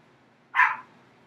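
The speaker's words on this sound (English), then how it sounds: "All right, stop barking." A single dog barks once, short and fairly loud, against an otherwise quiet background.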